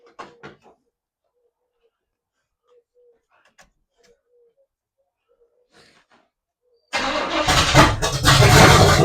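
A 1982 Chevy pickup with a previously locked-up motor cranks loudly and close after near silence broken by faint clicks, the starter grinding steadily for the last couple of seconds without catching.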